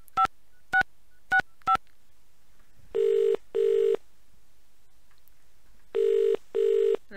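Dialing in the game The Dream Machine: four short, evenly spaced tone beeps, then a pause and two pairs of longer ringback tones separated by silence, clean and close.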